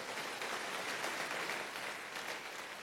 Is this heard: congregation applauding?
yes